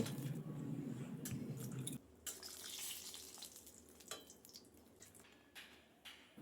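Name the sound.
bori (lentil dumplings) frying in oil used for fish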